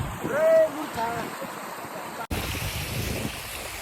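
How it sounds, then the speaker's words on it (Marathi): A stream rushes steadily nearby with broadband water noise; a voice talks over the first half, then the flowing water continues alone. "सुंदर असा ओढा आहे"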